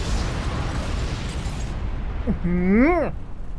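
A massive explosion in the Monster Hunter Stories 2 game levels a village: a loud, sustained roar of blast rumble, then a tonal whine that rises and falls near the end.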